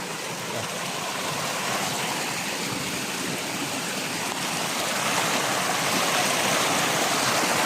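A flowing stream rushes steadily outdoors, a dense, continuous wash of water noise that stays loud and even throughout with no voices.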